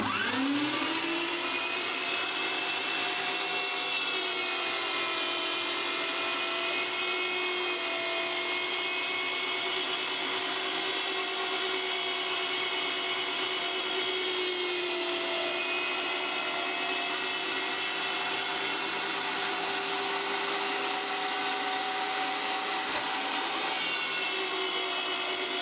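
Electric grinder milling a batch of bulgur with lean meat for kibbeh, a loud continuous motor whine holding steady for the full stretch with no talk.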